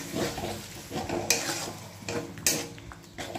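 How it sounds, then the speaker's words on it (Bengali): Tomatoes and ground spice paste frying in a pan, a soft continuous sizzle broken by a few sharp spoon scrapes and taps against the metal. "মশলাটাকে ভালো করে কষিয়ে নিতে হবে।"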